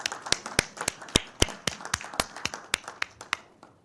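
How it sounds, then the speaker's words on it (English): A small group at a county board of commissioners meeting gives a round of applause, sparse, distinct claps in an uneven rhythm that thin out and fade toward the end. "round of applause for everybody"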